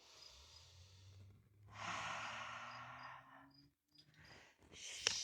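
Deep, slow breaths during a gentle arm-swinging wind-down exercise, a long audible inhale followed by a breathy exhale, close to the microphone in a quiet room.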